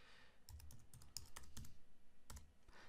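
Password being typed on a computer keyboard, with a few quiet, distinct key taps spaced unevenly over a faint room hum and no talking.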